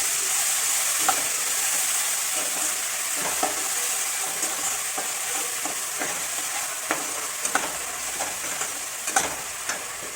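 Ginger, garlic and onion paste frying with black pepper, cloves and cumin in a pan, a steady close sizzle with scattered stirring scrapes and small pops, no talking.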